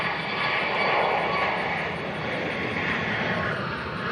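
Airliner taking off at Nashville International Airport, a loud continuous jet engine roar that holds steady throughout and fills the whole clip.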